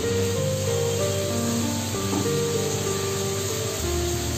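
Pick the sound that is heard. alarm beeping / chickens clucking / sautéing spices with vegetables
sautéing spices with vegetables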